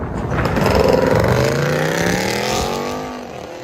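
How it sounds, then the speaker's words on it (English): A straight-piped 2019 BMW X5 with the M package does a burnout. Its loud, raspy engine revs high and holds a rising howl up close before easing slightly toward the end. "Have him smoke the tires on the RL."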